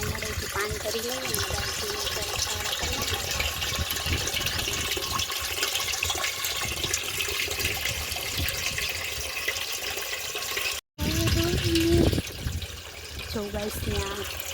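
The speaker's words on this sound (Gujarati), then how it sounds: "આપણે ડોલ ભરી લીધી છે" Water gushing steadily into a bucket from a tap in a village setting, a continuous loud rush that briefly cuts out and resumes, with voices in the background.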